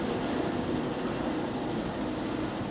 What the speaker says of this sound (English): There's a train coming, folks.